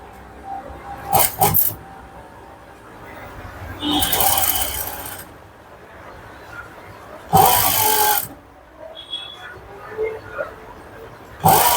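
A sewing machine runs edge stitching on netted blouse fabric in short, loud bursts separated by quiet pauses and light handling clicks.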